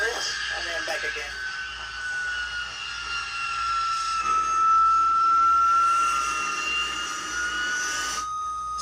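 A de Havilland Vampire jet engine whines and roars steadily during a taxi run-up, its pitch holding high and the level swelling midway, with a pilot talking over the engine noise.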